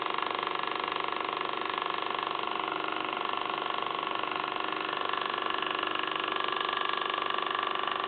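A homemade air compressor built from a refrigerator compressor runs with a steady, quiet motor hum and faint rattle, unchanging for several seconds with no speech.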